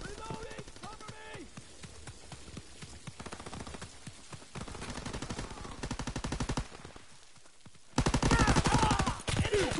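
Rapid bursts of automatic gunfire in a World War II video game battle, dense rattling volleys close by that thin out midway, then return harder and louder near the end.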